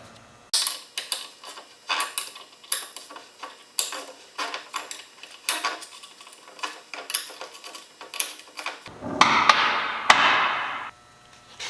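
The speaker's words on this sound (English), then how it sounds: "grab a wrench and slowly start going around" Wrench tightening ring gear bolts on a Dana 44 differential carrier during a Salisbury diff rebuild, sharp metallic clicks in quick uneven bursts, close and fairly quiet, ending in a louder clattering rattle.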